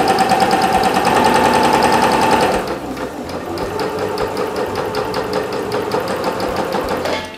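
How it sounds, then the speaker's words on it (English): A sewing machine runs steadily, stitching a straight seam along fabric, its fast mechanical chatter continuous and close throughout, easing slightly partway through without stopping. "just before you get off the fabric, you hold your reverse button and then continue sewing"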